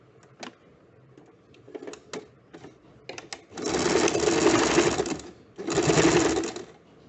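A home tailor's sewing machine stitches piping onto a high neckline in two loud, close bursts of rapid running. Scattered clicks and fabric handling come before them, and a brief pause separates the two runs.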